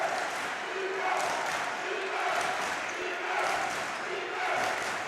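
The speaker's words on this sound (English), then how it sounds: "And the crowd is into it." Crowd noise at a college men's basketball game in an arena, a steady wash of cheering and shouting that rises and falls in waves, with a commentator's voice running over it.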